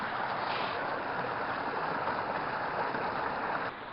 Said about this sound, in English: this hill is just covered in hundreds of miniature waterfalls